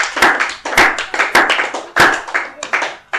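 A church congregation claps in unison to acclaim the Lord, a loud, close run of sharp hand claps in a steady rhythm, roughly five or six bursts, with some voices mixed in.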